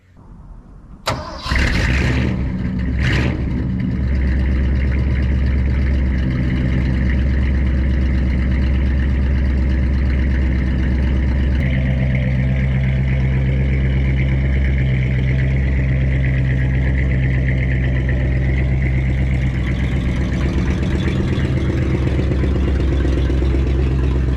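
A 1967 Ford F250 Camper Special with a 352 engine cranks briefly, catches and settles into a loud, steady, rumbling idle that runs unbroken for about twenty seconds, with no talking.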